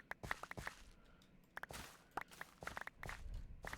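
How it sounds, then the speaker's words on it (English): Small crisp footstep clicks come in quick irregular clusters, birds landing in Minecraft, close and sharp over a quiet low background. "I need the birds to stop making footstep noises when they land"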